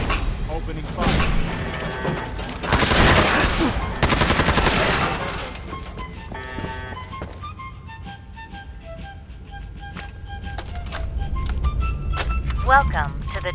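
Automatic gunfire in Fallout 4 comes in several loud, rapid bursts over the first seven seconds. Electronic beeps and tonal game sounds follow, and a voice speaks between the shots.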